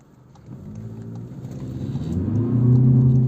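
A 2016 Volkswagen Passat Comfortline with a 1.6 TDI diesel engine accelerating hard in a 0–100 km/h run, its engine drone heard from inside the car and rising steadily in pitch and loudness, with no talk.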